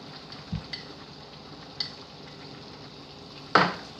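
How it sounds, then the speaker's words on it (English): A spoon knocks and scrapes through brown stew chicken with green peas in a pot, Jamaican style, a few sharp clinks over a soft background simmer, no talking. "Just gonna mix it in again."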